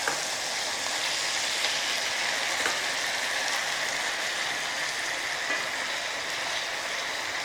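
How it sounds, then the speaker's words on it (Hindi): Chicken pieces frying on high flame for chillu roast, a dense continuous sizzle and crackle of hot oil, close and steady throughout without talk. "3 से 4 मिनट तक दूसरी साइड फ्राई कर लेंगे।"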